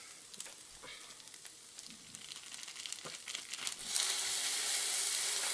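Thawed meat for goulash dropping into a hot skillet: faint crackles and pops at first, then a sudden steady bright sizzle that carries on loud and continuous.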